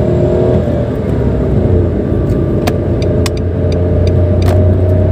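A 2014 Nissan March 1.2 L with manual gearbox accelerating along an out-of-town road, a loud steady engine drone and road rumble heard from inside the cabin, with a few faint clicks and no talk.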